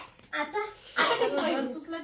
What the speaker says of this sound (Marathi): खोकला खोकला खोकला परेशान करतो आम्हाला